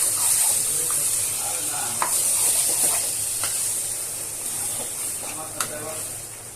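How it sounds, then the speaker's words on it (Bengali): Chicken pieces and onions stir-fried in a pan for a spicy Bengali-style chicken curry, with a steady close sizzle and hiss and occasional scraping stirs throughout. "তারপরে আস্তে আস্তে কষিয়ে নেব মাংসটা।"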